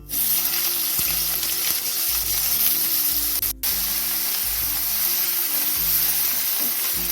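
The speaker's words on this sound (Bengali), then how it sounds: "তেলটা গরম হয়ে গেছে বেগুনগুলো আমি দিয়ে দেবো" Eggplant pieces fry in hot mustard oil over a medium-to-high gas flame, giving a loud, dense, continuous sizzle with a brief break partway through.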